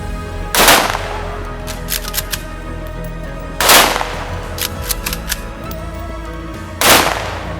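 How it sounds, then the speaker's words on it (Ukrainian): Three loud rifle volleys of a military funeral salute crack out at even intervals of about three seconds, each sharp blast followed by a brief echo against a steady outdoor hum. "На честь тих, хто віддав своє життя за нашу свободу, за традицію пролунав військовий салют."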